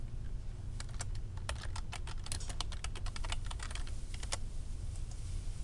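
Rapid typing on a computer keyboard, a steady run of crisp, irregular key clicks over about five seconds, close to the microphone with a low background hum and no talking.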